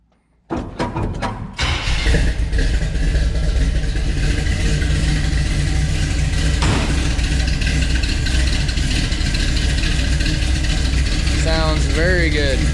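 A Chevelle's 327 V8 fitted with new exhaust and mufflers starts up after a brief pause, then settles into a loud, steady, deep idle close by, with a short rev near the end.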